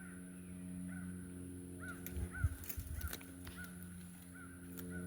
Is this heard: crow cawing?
yes